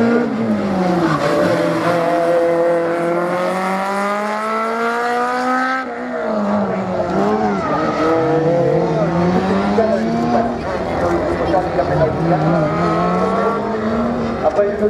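Race car at a slalom event at Lessay accelerating hard through the gears, the engine note rising and falling with rapid shifts and tire squeal, loud and close, with some talk underneath.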